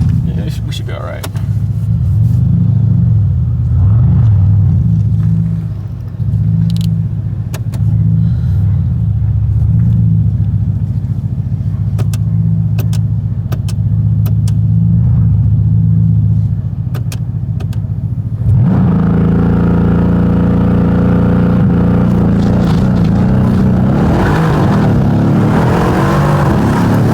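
A Mercedes C63 S AMG heard from inside the cabin while driving gives a loud, steady low engine drone that swells and brightens for the final stretch, with occupants talking over it.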